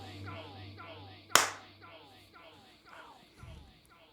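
A single sharp hand clap in a podcast studio, one crisp isolated crack standing out among quiet background voices and music.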